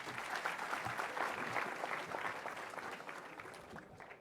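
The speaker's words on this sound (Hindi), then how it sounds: "जोरदार तालियों के साथ स्वागत।" Audience applause at a National Cadet Corps ceremony, a steady wash of many hands clapping that fills the whole stretch and thins slightly toward the end, with no voices over it.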